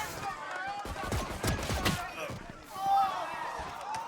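Pistol shots in a professional Valorant esports match between Sentinels and EG: a quick run of sharp cracks and clicks mixed with in-game effects, sitting under an excited caster's commentary.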